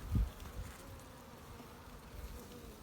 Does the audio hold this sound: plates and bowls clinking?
no